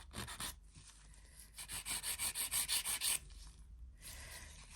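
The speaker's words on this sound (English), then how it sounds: "I do flat of the file across the body like that" A nail file rasps steadily across an acrylic nail, close and quiet, in a run of rhythmic strokes with brief pauses between.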